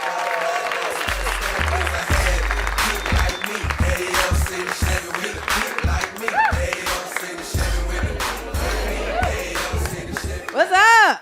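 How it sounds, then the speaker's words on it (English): Crowd at a comedy show in a Bay Area venue claps and cheers continuously, with deep thumping music underneath and a whoop rising near the end. "Clap it up for the very funny Tammy T."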